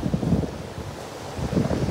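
Ocean waves wash onto a beach in Puerto Princesa, Palawan, a steady surf roar with swells at the start and end, mixed with wind rumble on the microphone.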